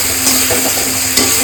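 Turmeric and red chilli powder sauté with softened tomato in a pan for a salted hilsa dish, giving a brief, steady close sizzle with a couple of stirring scrapes.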